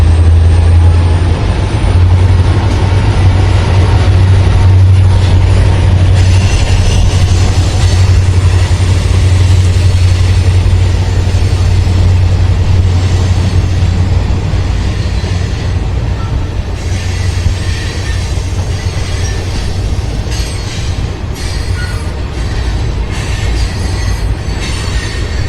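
Norfolk Southern freight train passing nearby, a short train whose steady loud rumble of wagons and wheels runs throughout, with wheel squeal and clanking on top.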